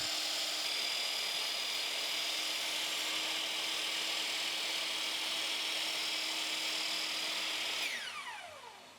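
A track saw fitted with an Axcaliber CutPro blade runs with a high, steady whine for several seconds, then winds down as the motor is released.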